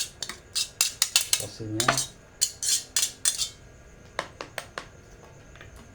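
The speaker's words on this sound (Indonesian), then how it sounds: "Kita masukkan mie nya. Kita masukkan lagi sini mie." Noodles being placed into bowls for chicken noodle soup, with a run of bright metallic clinks and clatters of utensils against bowls, close and rhythmic, with one brief spoken word.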